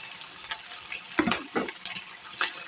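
Onion, green chilli, ginger and curry leaves frying in a pan give a steady soft sizzle with a few louder crackling bursts as the pieces go in, close and fairly quiet.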